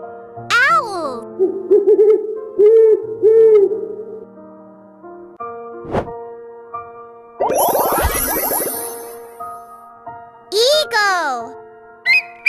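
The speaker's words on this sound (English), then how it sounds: "Owl." An owl gives a few soft, hollow hoots in a short sequence, mixed with bright chiming tones and a voice speaking.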